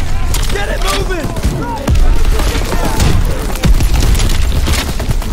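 Gunfire in Call of Duty WW2 during a German troop assault, with booming shots and bursts sounding under loud shouting voices and battle chatter, the firing punctuating the noise at irregular intervals.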